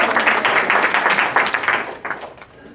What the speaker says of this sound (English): Let's have a round of applause for Brooke.